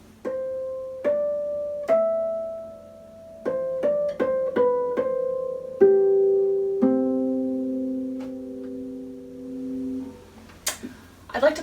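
Harp harmonics ring out like little bells, a dozen clear pure tones plucked one by one, some in quick pairs, each sustaining and fading; close and clean, ending with a soft rustle.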